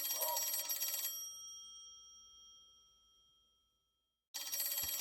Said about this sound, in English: Do I have to actually answer the phone?